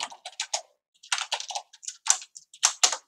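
Close, crisp keystrokes on a computer keyboard come in quick irregular bursts with short pauses, as a print command is typed for a MicroPython board, alone in an otherwise quiet room.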